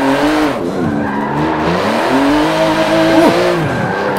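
A car drifts in Forza Motorsport 7 with loud, continuous tire squeal wavering in pitch over a steady engine drone, close and with no voices.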